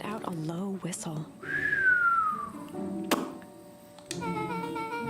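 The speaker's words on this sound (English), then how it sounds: "Mona let out a low whistle." A low, drawn-out whistle in the video game Beacon Pines, one sliding tone that falls slowly in pitch over about a second and a half, set between short game sounds and a voice speaking before and after.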